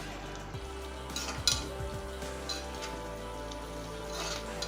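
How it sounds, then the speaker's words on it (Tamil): Soft, steady bubbling and light sizzle of a tomato gravy (thakali kuzhambu) simmering in a pan, close by, with a low background hum and a few faint clinks. "இன்னும் கொஞ்சம் ஒரு 2 நிமிஷம் கொதிக்கட்டும்"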